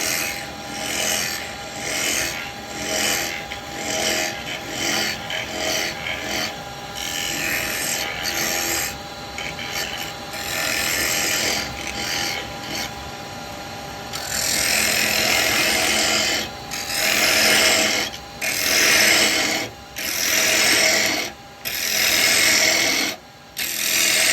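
Carbide woodturning tool cutting wood on a lathe spinning at 2,500 RPM, a close, continuous scraping rasp that surges and eases with each pass, growing louder and more broken toward the end.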